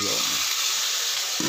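Shrimp hitting hot oil in a cooking pot for ginataang labong, coconut milk with bamboo shoots, giving a steady broadband sizzle that holds close and even throughout, with a brief thump of stirring near the end.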